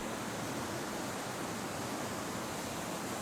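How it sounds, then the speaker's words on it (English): San Luis Obispo Creek flows through the city, heard as a dense, steady wash of rushing water with no breaks, even and moderately loud, with no voices. "Now we will watch the creek flow through the city past a series of local landmarks"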